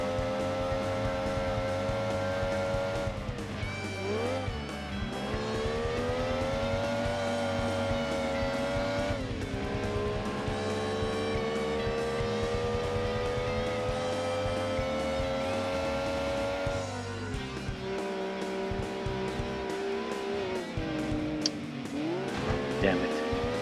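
A Mazda MX-5 race car in Gran Turismo 2 revs continuously at high speed, engine pitch rising and dropping through gear changes, with tire squeal as it oversteers; someone talks over it.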